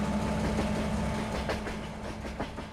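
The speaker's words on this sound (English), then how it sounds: "A unit coal train headed somewhere." A long unit coal train rolls past in Farming Simulator 22, its wheels rumbling with rhythmic clickety-clack over the rails, a steady low drone that slowly fades.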